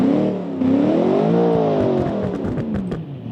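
A 1960s-style V8 supercar killer built in Automation revs hard in BeamNG.drive, its engine note sweeping up and down in pitch as the throttle is worked, loud and close with no talking.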